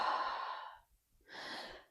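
A voice imitates heavy breathing: one long, loud breathy exhale, a brief pause, then a second forceful breath, close and alone.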